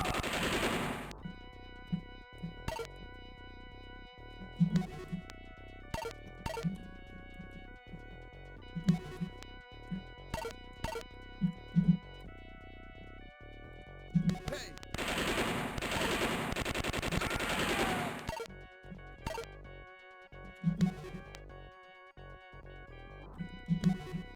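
Gunfire from the video game Star Wars: Dark Forces, scattered shots in short bursts and single cracks over a steady game background, with a denser, louder stretch of firing partway through.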